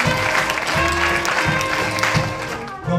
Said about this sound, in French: Jean-Claude Marquier pour le CNRS, qu'on peut applaudir.